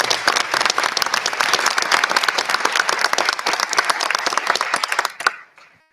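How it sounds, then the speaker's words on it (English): A school board meeting crowd gives a volunteer a round of applause at a recognition ceremony: dense, sustained clapping from many hands that ends abruptly near the close, leaving a brief quiet tail. "Please join me in giving Mary Kinley a huge round of applause."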